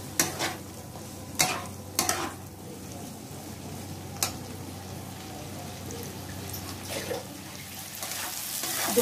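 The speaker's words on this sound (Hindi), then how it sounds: "बारीक चॉप किए हुए जो टमाटर हम लोगों ने रखा था वो टमाटर, इसको भी 2 मिनट भून लेंगे" Chopped tomatoes and grated ginger fry in a pan with a soft continuous sizzle, broken by a few sharp scrapes and knocks of the spoon against the pan; close, moderate level, no talk.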